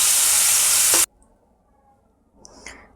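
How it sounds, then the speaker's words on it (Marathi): Tomatoes frying in a pan for a homemade vegetable pizza give a loud, dense sizzle that cuts off abruptly after about a second, followed by near silence and a few faint clinks. "चला आता आपण टोमॅटो फ्राय करून घेऊयात।"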